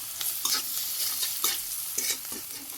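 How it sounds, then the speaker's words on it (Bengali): Chopped onion, onion paste, ginger paste, green chillies, turmeric, chilli powder and salt sizzle in a pan as they are stirred, a dense continuous frying hiss with soft scraping strokes and no speech. "পেঁয়াজ কুচি পেঁয়াজ বাটা আর আদা বাটা কাঁচামরিচ হলুদের গুঁড়ে শুকনো মরিচের গুঁড়ে লবণ এসব কিছু দিয়ে কষিয়ে নিতেছি"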